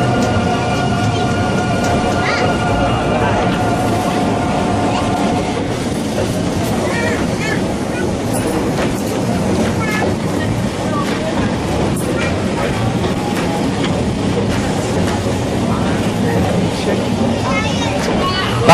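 Brush electric Hill of Howth tram cars rumble along rails with steady low clatter and squealing wheel tones, continuous and fairly loud throughout, with talk faintly mixed in.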